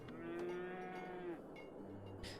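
Cattle in a video game moo in one long, drawn-out call that dominates the opening, followed by quieter farm-animal murmurs and ambient game sounds.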